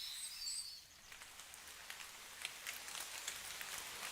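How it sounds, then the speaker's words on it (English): Faint rain patters on branches and leaves in a deep forest ambience from Kingdom Come: Deliverance II, a soft, steady spray of scattered droplet ticks, with a few high bird chirps near the start. "Over this sound, other rain sound plays over, so you hear like the drops hitting branches and leaves."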